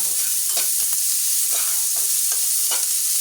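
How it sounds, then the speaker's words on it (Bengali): Finely chopped onions frying in a pan over medium heat, a loud continuous sizzle with a few soft stirring clicks and scrapes, no voices. "তো আমি পেঁয়াজ কুচিগুলো এবার এতে দিয়ে দিচ্ছি আমি একটু ভালো করে ভেজে নেব"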